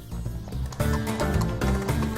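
An Arabian stallion at a hippodrome in Tunis, hooves clip-clopping in a quick uneven rhythm close by, with faint whinny-like tones over a dense continuous background.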